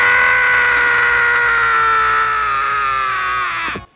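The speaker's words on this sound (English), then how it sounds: "And his scream is great" A man screams on a toilet in the horror film The Abomination, one long, loud, strained cry that holds for several seconds and then cuts off sharply.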